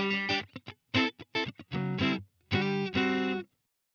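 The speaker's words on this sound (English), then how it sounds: "or it's kind of a light crunch type distortion." Electric guitar run through a Line6 Helix with a light crunch distortion, playing a short phrase of choppy strummed chords and brief stabs that ring out before a clean stop, heard alone.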